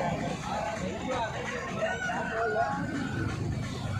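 Chickens and roosters at a country chicken market in Nallapadu, clucking and crowing over a steady background of crowd babble and nearby talk.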